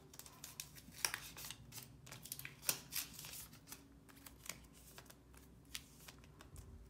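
Food photo cards being placed and arranged on a surface, soft close-up shuffling and light taps with a few sharper clicks scattered throughout, quiet and without talk.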